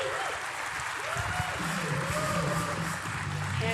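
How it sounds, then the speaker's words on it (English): Audience applause from a Laracon US 2025 developer conference crowd in Denver, a steady wash of clapping filling the hall, with a faint tonal voice or music running underneath. "so y'all give Dan and Margaret a big round of applause"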